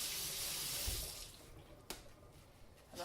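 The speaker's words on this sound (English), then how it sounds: "So we're just going to rinse in the sink." Water runs from a tap into a sink for rinsing cloth diapers, then stops, leaving a few faint drips and small splashes nearby.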